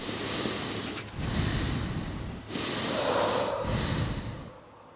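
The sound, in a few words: deep breath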